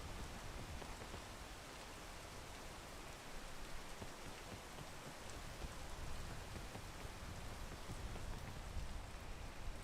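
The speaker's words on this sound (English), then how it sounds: "Wait for the rain to go." Steady rain falling outdoors during a mountain descent, a faint, even wash of hissing patter that continues without a break and with no voices over it.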